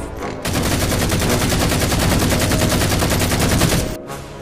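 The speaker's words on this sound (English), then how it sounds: "We heard gunfire." Rapid automatic gunfire in the video game Halo 4 bursts loudly and continuously for several seconds, a dense rattling stream of shots that cuts off abruptly near the end.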